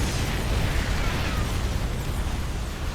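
Anti-armor missiles blow apart a group of Cyclone units in StarCraft II, a loud, continuous rush of overlapping blasts and pops filling the whole stretch without pause.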